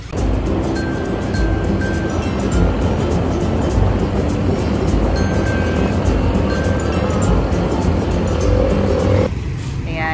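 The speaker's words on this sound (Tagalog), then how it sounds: "Kami naka-motor ni Lu." A motorcycle carries two riders into town, its engine and wind noise a loud, steady roar that runs unbroken before dropping off abruptly near the end.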